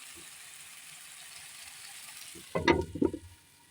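Soft steady sizzling of onions frying in a pan, with a few clattering knocks of a utensil or lid near the end.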